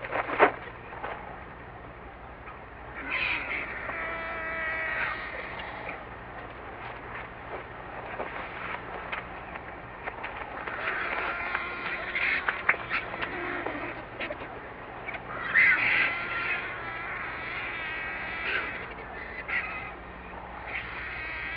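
Lappet-faced and griffon vultures squabble over a carcass, a continuous outdoor clamour of harsh croaks, hisses and cackling calls rising and falling in bursts, with no voices.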